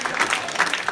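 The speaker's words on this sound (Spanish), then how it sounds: "si van a aplaudir, aplaudan" A church congregation applauding during a youth service, steady clapping and crowd noise throughout a short burst, fairly loud and close.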